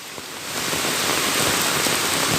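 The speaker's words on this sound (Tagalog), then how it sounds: "Grabe ang ulan." Heavy rain from Typhoon Aghon in Camarines Sur, Bicol, Philippines pours steadily, a dense hiss of drops hitting surfaces that grows slightly louder throughout.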